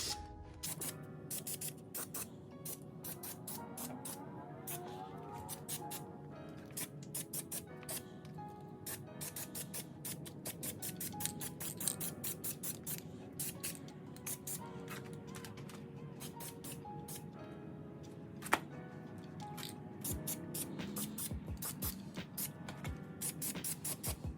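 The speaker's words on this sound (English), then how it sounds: "Just spraying a nice, decent coat of black all over the engine." Short bursts of black aerosol spray paint hiss in close succession onto a Harley-Davidson engine, with clicks and light handling noises between them and no speech.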